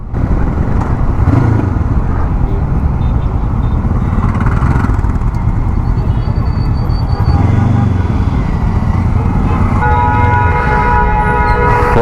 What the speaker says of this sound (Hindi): फंस चुका हूँ मैं ट्रैफिक में।